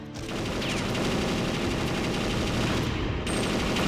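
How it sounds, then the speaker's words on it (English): An enemy guard in Perfect Dark unleashes sustained rapid gunfire, a loud, dense continuous barrage of shots that barely lets up for several seconds. "damn, he's shooting a lot"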